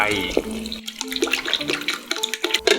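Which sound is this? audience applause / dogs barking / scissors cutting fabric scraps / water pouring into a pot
water pouring into a pot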